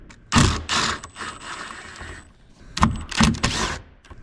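Ratchet wrench spinning off 10mm nuts inside a Chevy/GMC truck door panel, loud close clicking bursts in two groups separated by a quieter pause, with no speech.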